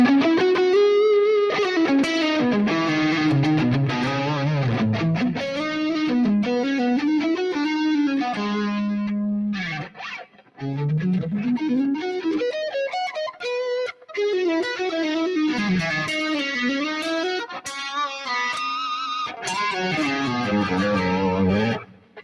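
Electric guitar played through a light Cakewalk B Reverb 2 setting, distorted melodic lines and bends running continuously up close with only a slight reverb tail.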